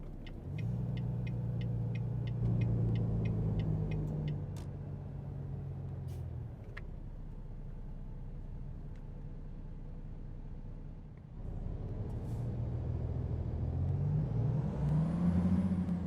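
Truck Jake brake in American Truck Simulator, a low rattling engine-brake rumble that fades out and then returns, with a few clicks early on, steady and fairly close, no voices.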